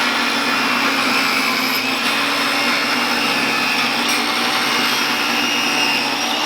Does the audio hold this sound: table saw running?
yes